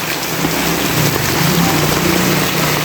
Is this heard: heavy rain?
yes